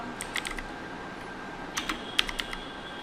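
Keyboard typing during graphic design work, saving a vector file: a few scattered light key clicks in small bursts, fairly faint, over a quiet room hum.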